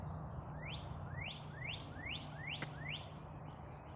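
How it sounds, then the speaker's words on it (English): A bird sings a series of rising, whistled notes in a quick regular rhythm, about seven in a row, faint over a low background hum. "you can hear those birds singing."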